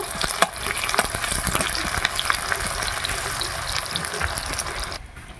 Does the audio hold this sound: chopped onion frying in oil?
yes